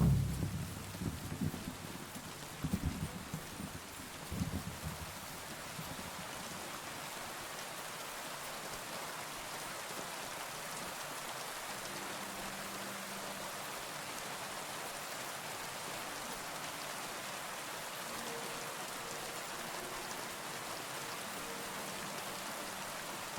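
Rain falling in the medieval video game Kingdom Come Deliverance 2: a constant, even hiss of rainfall heard alone, with a faint low rumble of distant thunder early on.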